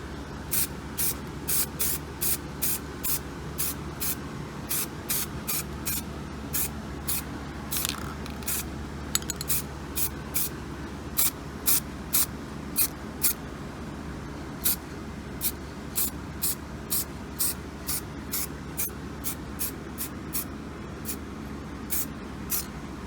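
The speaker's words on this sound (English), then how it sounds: "Just lightly misting it. Don't want to stay in one spot too long, because it'll create a drip" Spray paint misted onto a leather steering wheel in quick repeated short bursts, a regular rhythm of crisp hissing puffs roughly once a second over a low background hum, close and clear with no talking.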